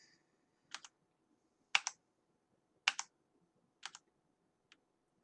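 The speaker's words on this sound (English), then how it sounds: "This guy's typing to his teammates" A League of Legends player types on a computer keyboard in short, crisp clusters of two or three close keystrokes, separated by quiet pauses, ending with a single tap.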